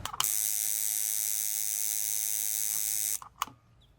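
A tattoo machine runs on its power supply during electrical troubleshooting, a steady loud electric buzz for about three seconds that then cuts off, followed by a few small clicks.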